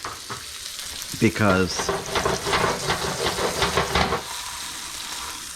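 Steak sizzling loudly in a hot pan as it is flipped to the other side, a continuous crackling fry with a brief scraping clatter of the turn, while someone talks over it.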